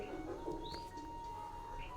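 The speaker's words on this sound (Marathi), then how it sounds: "कविका पक्ष्यांच्या किलबिलाटाने जागी झाली." Birds chirp and tweet in the morning, a few faint short calls over a quiet, steady background with a soft held tone.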